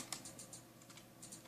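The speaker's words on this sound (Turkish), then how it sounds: "Yazma sesleri." Soft, quick keystrokes clatter on a computer keyboard in irregular bursts, faint and close, with no one talking.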